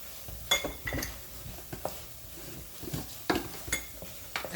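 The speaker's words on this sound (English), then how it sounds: "Let it fry for some time." A jackfruit and fish curry mixture being stirred in a pan for a Kerala chakka and meen curry, with soft scraping and clinks of a spoon against the pan in irregular bursts, close and fairly quiet, with no clear sizzle.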